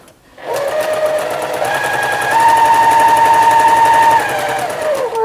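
A sewing machine stitching a fabric gift bag, a fast, steady mechanical rattle running continuously at close range, with the motor pitch rising and holding before tapering near the end.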